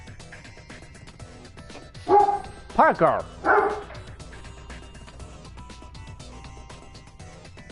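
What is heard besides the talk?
dog barking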